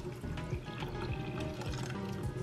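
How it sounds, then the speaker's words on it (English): Water pouring into an empty bean can while cooking beans in a kitchen, a steady close filling sound with a continuous liquid rush throughout and no talk. "I'm going to put water in the can"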